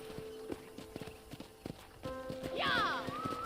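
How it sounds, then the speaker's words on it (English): Horse hooves clip-clopping in Red Dead Redemption, steady close hoofbeats on a ranch with a brief whinny near the end, a voice faintly underneath. "I picked out a fine horse for you."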